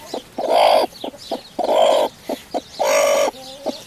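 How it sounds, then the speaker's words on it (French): A brooding hen in a nest box gives loud, insistent clucks and agitated growling bursts when touched, several close calls separated by short, sharp clucks. "la poule n'aime pas qu'on la touche."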